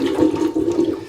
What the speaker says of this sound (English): Let's just drain it out, see what happens.